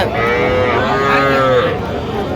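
Young bull calves mooing loudly at a crowded cattle market in Faridpur, several drawn-out, close bellows overlapping amid a busy background murmur.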